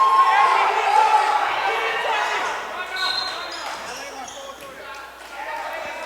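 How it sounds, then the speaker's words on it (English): Crowd roar fills a high school varsity boys basketball gym after a breakaway dunk, a loud broad wash of cheering and shouting that slowly fades and swells again, with voices mixed throughout. "Gets a little roar out of the crowd."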